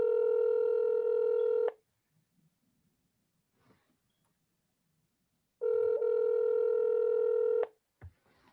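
Telephone dialing tones for an outgoing call to a caller during a city council meeting: two clear steady tone bursts of about two seconds each, separated by silence, with a faint click at the end.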